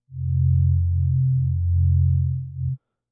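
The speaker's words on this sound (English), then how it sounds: "I've got just a sample of a sine wave." A steady low sine tone hums for under three seconds, smooth and unbroken, then cuts off abruptly.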